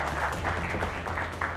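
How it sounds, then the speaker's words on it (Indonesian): Brief burst of audience applause from students gathered at an evening discussion event, a dense wash of clapping heard fairly faintly for under two seconds. "Tepuk tangan yang paling meriah."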